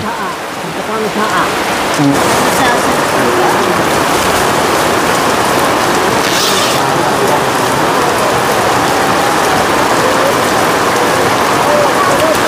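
Heavy rain pouring steadily during a typhoon, a loud dense hiss of drops hitting surfaces close by, continuous and unbroken, with a brief sharper splash near the start.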